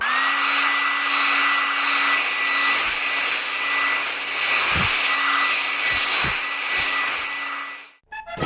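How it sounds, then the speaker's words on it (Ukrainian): A hair dryer drying a board painted with a PVA glue and paint mix blows at a steady, loud whine for about eight seconds with a few soft knocks, then switches off and a brief clatter follows. "Далі вмикаємо фен і сушимо."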